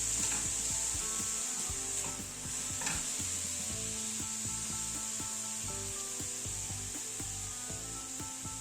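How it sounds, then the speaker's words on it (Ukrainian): Mushrooms frying in a pan, with a continuous soft sizzle under repeated scraping and rubbing strokes of a utensil stirring them, close and moderately quiet, no voices. "Не забуваємо про грибочки, періодично їх перемішуємо, щоб вони рівномірно розтали, випустили свою вологу."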